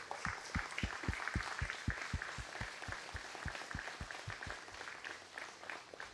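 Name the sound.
audience round of applause at a ceremony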